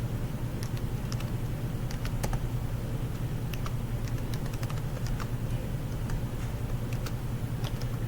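Steady typing on a computer keyboard, a continuous patter of quick key clicks with occasional sharper taps over a low constant hum.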